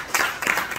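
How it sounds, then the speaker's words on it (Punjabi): Audience applause in a hall at a community gathering, a short burst of clapping in two swells, fairly close and moderately loud. "ਜਨਾਬ ਹਾਜੀ ਆਜ਼ਮ ਸਾਹਿਬ ਤਾਲੀਆਂ ਵਜਨ"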